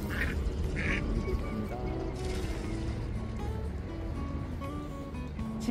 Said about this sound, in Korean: 아, 저기 오리 있어.